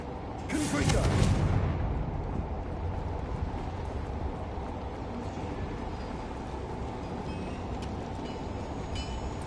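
A Confringo fire spell blast in the video game Hogwarts Legacy, a sharp, bright crack followed by a heavy rumbling roar that settles into a steady, low mechanical drone.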